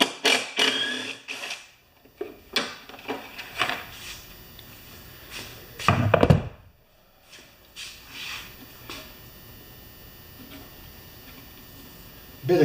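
Quarter-inch-drive socket wrench with a 5/16 socket working in reverse on a part of a Craftsman mower, giving a close series of ratcheting clicks and metal taps with a louder clatter midway, and no talk.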